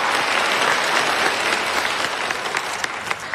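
An audience keeps up full, even clapping as a competition committee chairman takes the stage at an event, the applause thinning slightly toward the end with a few sharper individual claps standing out.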